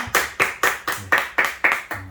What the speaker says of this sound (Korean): 우리 다 같이 박수로 환영하도록 하겠습니다